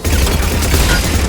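Turret gunfire in the video game Mass Effect 3, a loud continuous rattling fusillade with heavy low rumble throughout.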